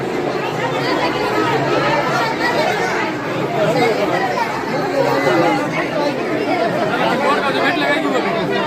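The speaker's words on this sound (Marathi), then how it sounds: "रविवार असल्यामुळे जबरदस्त गर्दी आहे।" A large Sunday crowd queuing at the Yedeshwari Devi temple in Yermala fills the air with a steady, loud babble of many overlapping voices close around.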